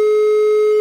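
A telephone call tone sounds while a phone booth is being dialed. It is a single steady electronic beep at one pitch, clean and unbroken for under a second, with no voices over it.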